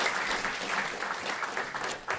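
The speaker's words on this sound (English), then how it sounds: "Please give our panelists a round of applause." An audience applauds panelists at a climate action event on food waste, a steady, even wash of many hands clapping heard from a moderate distance, with no talk over it.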